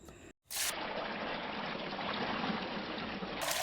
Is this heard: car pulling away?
no